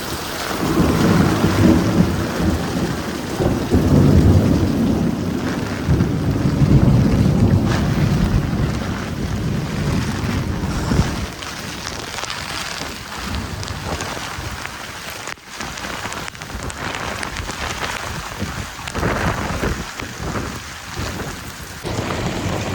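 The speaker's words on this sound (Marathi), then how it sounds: "पावसाचं कसं वातावरण आहे" Heavy rain pouring with rumbling thunder, loud and dense at first with deep rolling rumbles, then a steady hiss of rain drumming on a surface, with wind buffeting the microphone.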